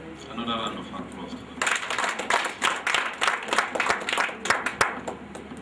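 A small seminar audience at an entrepreneurship workshop breaks into clapping after a voice, the applause building quickly and continuing in uneven bursts, moderately close and loud.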